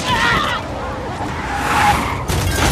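A car skidding and overturning in an action film after its driver is strangled with a cable, with a loud, harsh tire screech and rushing scrape that ends in an abrupt burst of noise.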